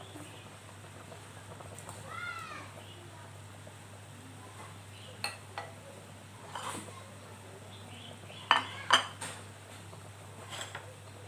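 A ladle skimming foam off a pot of boiling mackerel sour soup with young tamarind leaves: a faint bubbling simmer under a low hum, with a few light metallic clinks and scrapes toward the end.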